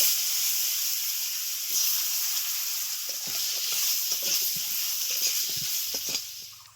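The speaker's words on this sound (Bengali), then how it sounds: "আলুগুলো হালকা ভাজা ভাজা হয়ে গেছে" Potatoes fry in a pan of hot oil with a loud, continuous close sizzle and hiss, while scattered clicks and scrapes of handling sound underneath throughout.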